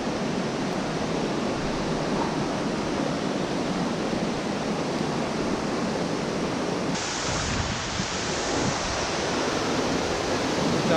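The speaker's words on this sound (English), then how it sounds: "made it to the bottom of this waterfall, which sure is pumping the water downhill" Dense, continuous roar of a powerful waterfall heard from its base near Cradle Mountain, loud and close, with steady broadband rushing water and no other sounds.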